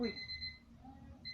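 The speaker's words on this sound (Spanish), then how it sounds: "esa es la alarma para recordarme que tengo que hacer esta clase" A short reminder alarm goes off during an online class, giving faint high electronic beeping tones in a quiet room, brief and distant.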